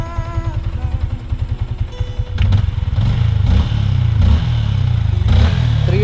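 A Yamaha Sniper 155 motorcycle engine idles with a quick, close, pulsing beat, then revs up into a louder, rougher roar with several rising throttle blips and some mechanical clatter; no talking.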